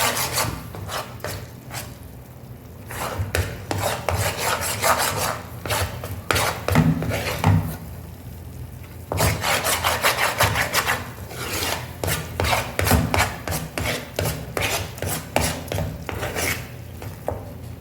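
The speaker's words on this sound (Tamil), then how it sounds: "இதே மாதிரி கிண்டிக்கிட்டே இருக்கணும் பாருங்கள் கண்டினியூவாக" A spoon scrapes and rubs steadily through a thick Mysore pak mixture cooked in oil in a pan, a continuous close rasping stir in repeated strokes with brief pauses.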